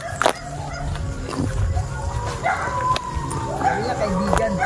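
Several dogs bark and yip excitedly at varying distances, overlapping one another, while people talk in the background.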